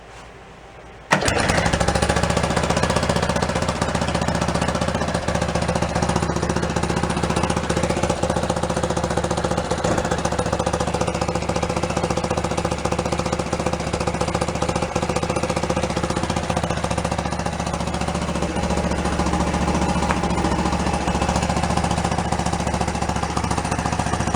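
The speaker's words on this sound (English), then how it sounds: "I'm gonna try turning the idle up a little bit, see if we can get it to stay running." A new engine in a Beaver amphibious vehicle, started for the first time in 25 years, kicks in abruptly after a second and then runs loud and steady with a rough, hammering idle for the rest.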